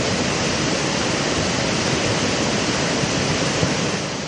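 Floodwater mixed with mud rushes through market streets and residential areas, a loud, dense, unbroken roar of churning water with no voices.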